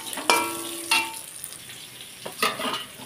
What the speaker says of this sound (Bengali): তো দেখো এখানে দিয়ে দিচ্ছি কালো জিরা।